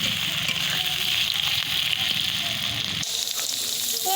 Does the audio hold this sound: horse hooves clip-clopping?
no